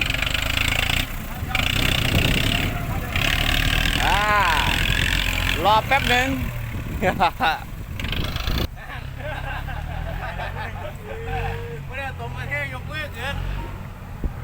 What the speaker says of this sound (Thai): รถไถเข้าเคลียร์อีกสักรอบ